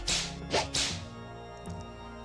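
Whip lashing sound effect, three sharp airy cracks in quick succession followed by a softer fourth, loud and close over a faint musical background.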